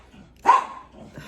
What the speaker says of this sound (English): The dog started barking at the cat because the cat was bothering the dog.